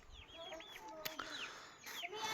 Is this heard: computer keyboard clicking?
no